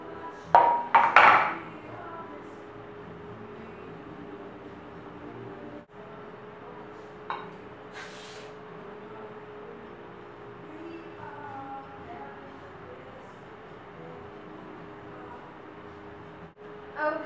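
Olive oil cooking spray shoots onto a pan in one short, sharp hiss in a quiet kitchen. Scattered knocks and clatter from handling utensils come just before and after it.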